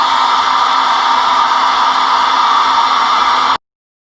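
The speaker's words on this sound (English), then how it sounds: "you can grab your blow dryer and that will help the layers dry faster" A hair dryer blows steadily at close range to dry layers of watercolor paint, a loud, even whoosh that runs alone for about three and a half seconds and then cuts off abruptly.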